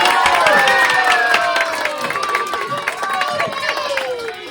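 Children and an audience at a plate-spinning juggling routine break into cheers and clapping, lively shouts and high excited voices ringing over scattered applause, close and loud before easing off slightly.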